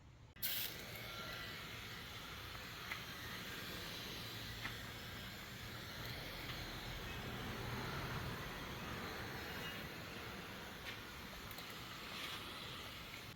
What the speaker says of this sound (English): we're going to spray down every forward-facing surface